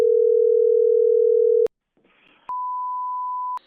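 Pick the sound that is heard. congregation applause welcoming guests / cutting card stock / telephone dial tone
telephone dial tone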